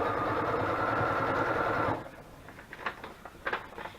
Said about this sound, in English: So now I'm just going to sew around the edging in the, you know, style of a pocket, leaving the top open.